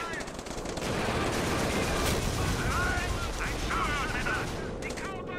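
Mortar rounds and rapid gunfire from a World War II forest battle in the strategy game Company of Heroes, a dense continuous barrage of shots and blasts filling the whole stretch at steady loudness.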